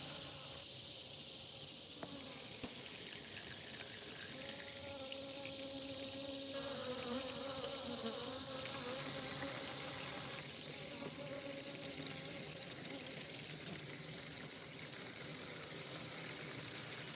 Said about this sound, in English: Check out the little bees.